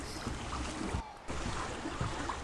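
A boat moves across water in the video game ARK Survival Evolved, a dense, steady wash of splashing and rushing water with a brief dip in the middle before it resumes.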